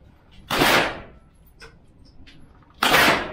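A pistol fires at the Gerena outdoor shooting range: two sharp, loud reports about two seconds apart, each with a brief ringing tail, and faint clicks in between.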